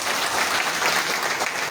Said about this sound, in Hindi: तो एक बार तालियां हम लोग बिल्कुल बजाएं।